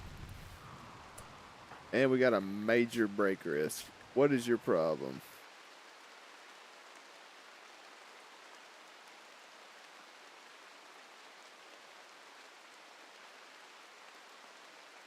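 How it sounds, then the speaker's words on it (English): Steady rainfall in the colony-survival video game RimWorld, a soft even hiss that carries on alone for about ten seconds after someone talks over its opening. "Rain to put the fire out."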